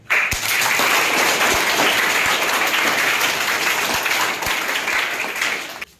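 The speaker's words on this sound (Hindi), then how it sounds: "इसके लिए पहले की ताली हो जाए।" An audience claps for a schoolgirl from a Bihar government school, steady close applause with a few sharp individual claps, fading out at the end.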